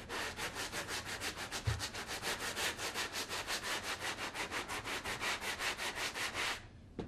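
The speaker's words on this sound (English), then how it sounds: "I'm sanding it with one of my coarse grit sanding blocks." Rhythmic back-and-forth rasping of a coarse-grit sanding block on a surface, close and steady, many even strokes before stopping.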